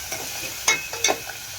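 Tomato cooking in oil with a pinch of asafoetida for tempered yogurt, a quiet low sizzle broken by a few soft stirring scrapes, close by, no voices.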